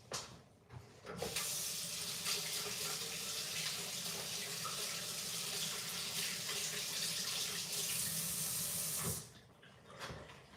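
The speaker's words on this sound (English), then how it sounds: "Wash my hands." A tap runs steadily into a kitchen sink while hands are washed under it, a close, continuous splashing hiss lasting most of the moment before it shuts off.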